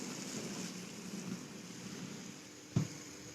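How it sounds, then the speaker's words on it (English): A pot of water for kabsa boils with a steady, rushing, bubbling hiss that carries on evenly, with one sharp knock near the end. "Our kapsa water is boiling."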